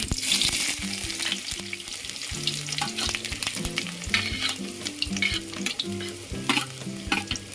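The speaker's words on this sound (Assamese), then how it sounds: "এতিয়া মই গৰম হৈ যোৱাৰ পিছত তাতে আমি কাটি থোৱা পিয়াজখিনি দি দিলো" Chopped onions hit hot oil in a heated wok and fry with a loud, continuous sizzle, while a utensil stirs and scrapes in irregular clicks throughout; no one speaks.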